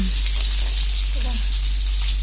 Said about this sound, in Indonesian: Kita masukkan bumbu yang tadi. Ada cabai, bawang merah, bawang putih. Kita tumis sampai harum.